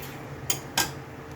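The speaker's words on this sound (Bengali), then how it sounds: "ভাতটা হয়ে গেছে, ভাত ঢেকে দেওয়া হলো" A lid goes onto a pot of freshly cooked rice with two quick, close metallic clinks against a quiet kitchen background.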